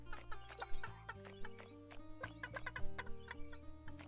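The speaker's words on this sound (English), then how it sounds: "I don't even want these chickens" Chickens in the Secrets of Grindea video game cluck in quick, repeated bursts, faint and layered over steady game music.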